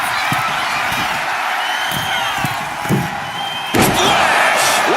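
Wrestler's splash landing with a heavy slam impact in the video game WWE 2K25, a few thuds over a cheering arena crowd, then one loud impact near the end as the crowd swells.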